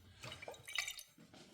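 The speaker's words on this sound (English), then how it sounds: "I'm going to get some water in this jar. Rinse it." Water runs from a tap into a glass jar to rinse out leftover pasta sauce, with a brief, close splashing and trickling rush and no talk.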